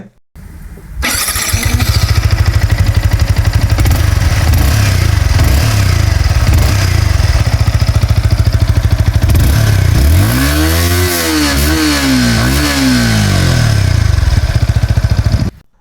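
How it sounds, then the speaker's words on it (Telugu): A Yamaha XSR 155 motorcycle with a large exhaust starts up and idles with a loud, steady thumping exhaust note, then revs sharply twice near the end before settling back to idle, close and alone. "ఈ బైక్లో ఎగ్జాస్ట్ డిజైన్ చూడటానికి ఎలా ఉంది, కొంచెం పెద్ద సైజ్ ఎగ్జాస్ట్ ఇది, సౌండ్ ఒకసారి వినండి"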